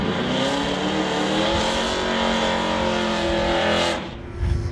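Drag racing cars, among them a 1968 Dodge Dart, roar loudly at full throttle on a drag strip, a steady dense engine blare holding for several seconds before cutting off abruptly near the end.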